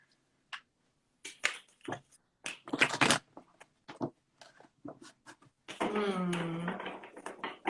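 Tarot cards are shuffled in quick, irregular bursts of crisp riffling and tapping, fairly close and quiet, with one longer steady rustle near the end.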